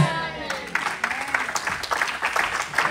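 A church congregation claps and applauds in a steady wash of hand claps, fairly close, with voices calling out over it.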